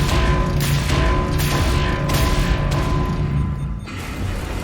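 Weapon reload in the shooter game Wolfenstein The New Order, loud mechanical clacks and ratcheting layered over booming gunfire and explosions, dense and continuous.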